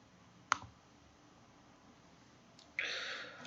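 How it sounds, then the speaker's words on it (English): A single sharp computer mouse click on the execute button while installing MySQL, close and brief in a quiet room. "we're going to click execute"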